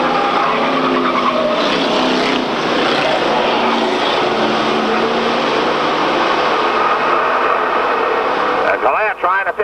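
Street stock race cars roar around Glade Speedway in 1995, a dense, continuous engine drone with loud, steady intensity, and a pass fading near the end.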